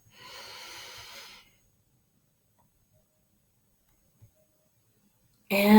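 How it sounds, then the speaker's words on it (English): One deep breath is drawn in audibly through the nose during a square-breathing exercise, followed by a long quiet hold, with a sharp loud sound at the end. "we're going to take a big breath in"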